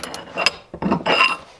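A ratcheting socket on a persuader bar works at a Jeep JK's back seat bolts, giving several short metallic clicks and scraping clanks in quick bursts, fairly close.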